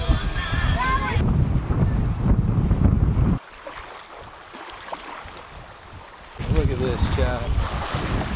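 Wind and ocean waves roll past a boat out at sea, a steady broadband rush that drops quieter in the middle. Voices talk over it at the start and end.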